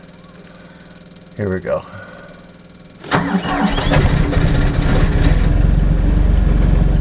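A cold 2002 John Deere 260 skid steer starts without ether or a block heater: the starter cranks briefly, the diesel catches with a loud roar, then settles into a steady, rumbling idle. Someone speaks briefly before it fires.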